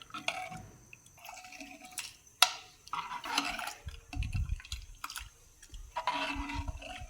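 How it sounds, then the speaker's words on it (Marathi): Black val bean curry bubbling in a pot as it comes to a boil, with irregular pops, gurgles and small splashes, along with occasional clinks, close and moderately loud. "आता याला उकळी येऊन द्यायची"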